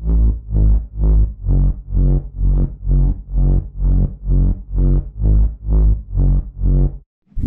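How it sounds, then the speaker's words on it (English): A distorted, sidechained drop bass built in FL Studio with EQ and a filter, pumping loudly in about fourteen regular rhythmic swells that duck between hits, then cutting out briefly near the end. "I added some side chain, some EQ, a fruity filter, and some distortion. This is the drop bass."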